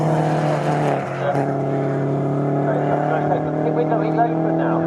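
A race car at Snetterton circuit during a 116 Trophy Race, heard as a sustained, steady engine drone with strong tonal harmonics that barely changes in pitch, with a voice talking over it.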